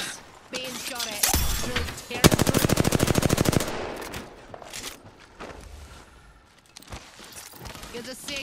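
Enemy squad's automatic gunfire in Apex Legends, a rapid loud burst of dozens of shots in quick rhythm with scattered single shots and footsteps around it, while voices talk over parts of the fight.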